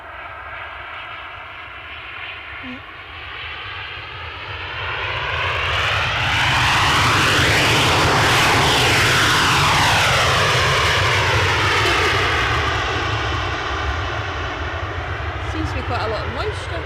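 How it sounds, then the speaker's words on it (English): An EasyJet airliner's jet engines at Edinburgh Airport on an icy day, a roar that swells from a distant rumble to a loud, close peak with sweeping pitch changes, then slowly fades. "And we've got an EasyJet coming out as well."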